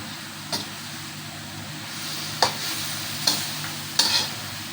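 Menudo cooks in a home kitchen pan with a faint steady sizzle. A utensil stirs it, giving a few sharp scraping taps against the pan spaced about a second apart.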